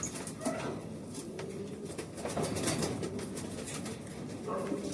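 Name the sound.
birds cooing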